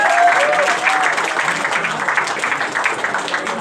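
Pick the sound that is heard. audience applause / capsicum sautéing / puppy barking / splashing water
audience applause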